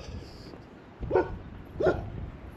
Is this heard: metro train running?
no